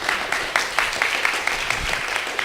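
A church congregation claps to welcome a guest, many hands beating together in a fairly even rhythm, a moderately loud continuous patter with no voices over it.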